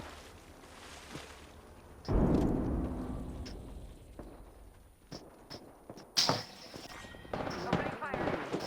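In a video game, a frag grenade is thrown and goes off. There is a sudden heavy boom with a rumbling decay, followed later by smaller impacts, and a voice talks over the game audio.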